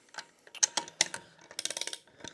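A torque wrench tightening Polaris Sportsman 570 engine bolts, a quick run of close, crisp mechanical clicks and ratcheting ticks in irregular bursts.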